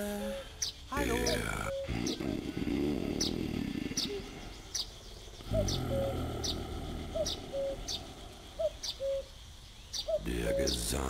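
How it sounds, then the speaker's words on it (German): Birdsong in a forest from the adventure game The Night of the Rabbit: repeated short chirps and whistled calls sound at a steady rhythm, partly under someone talking. "Der Gesang des Waldes. So ein schöner Klang."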